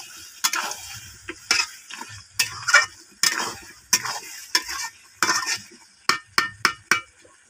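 Chicken curry is stirred and fried in a pan in Bengali style. A spatula scrapes and clinks against the metal in uneven bursts over a soft sizzle, and no one speaks.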